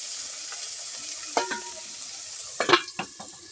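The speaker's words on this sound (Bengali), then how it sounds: "কড়াইতে তেল দিয়ে চাল কুমড়ো ভেজে নিয়ে কিছুটা ভাজা হয়ে গেছে, আবার দিয়ে দিচ্ছি, ভেজে নেবো।" Ash gourd frying in hot oil in a wok gives a steady close sizzle, broken by a few sharp scrapes and clatters of a spatula stirring the pieces.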